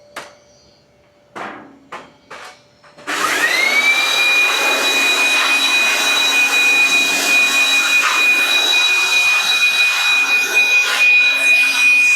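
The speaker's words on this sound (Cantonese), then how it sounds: "師傅而家就用緊吸塵機咧" A vacuum cleaner sucks up leftover water and detergent after an air conditioner is washed during a repair in Bangkok. A few soft knocks come first, then the machine switches on loudly with a steady roar and a high whine that runs to the end.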